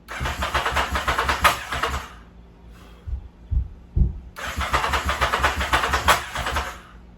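A muscle motorcycle engine cranks and roars into brief bursts, cutting out in between with a few low thuds, then catching again in a loud, rough run; no one speaks.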